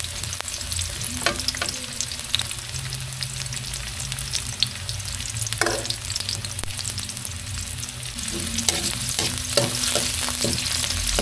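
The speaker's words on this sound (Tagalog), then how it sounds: "halu-haluin ng bahagya para maluto ang sibuyas at bawang." Onion and garlic sautéing in a hot pan, a steady close sizzle with scraping stirs and light clinks of the spatula recurring throughout, no voices.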